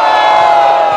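A Brazilian rap battle crowd roars for the rapper Covu, a dense, loud wall of cheering and shouting that holds steady for a moment.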